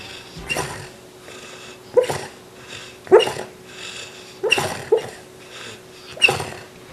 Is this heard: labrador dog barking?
yes